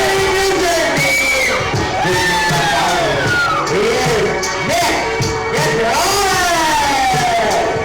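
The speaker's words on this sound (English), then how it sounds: "Listen to that crowd." A large wrestling event crowd cheers and roars continuously, with rising whoops and shouts swelling over a dense, loud wall of voices.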